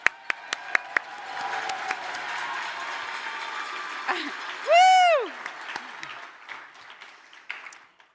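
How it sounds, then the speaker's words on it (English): Audience at an electric vehicle competition awards ceremony applauds in a steady, sustained round of clapping that gradually fades, with an enthusiastic cheer from one person in the middle. "let's give them also an even bigger round of applause"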